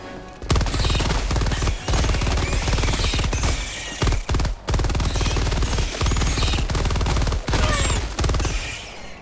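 A Tachanka turret in the video game Helldivers 2 fires at its maximum rate, loud sustained rapid automatic gunfire in long bursts broken by brief pauses, with no talk.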